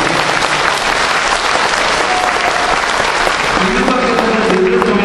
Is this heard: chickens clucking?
no